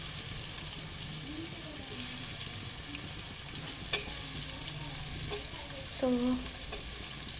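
Chopped potatoes frying in a pan for an aloo tomato curry, a steady quiet sizzle with a few clinks and scrapes of stirring, close by, with brief soft speech.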